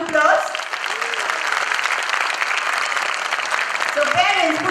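Audience at a kids' annual day celebration applauding, a continuous burst of clapping lasting several seconds, with voices at the start and end.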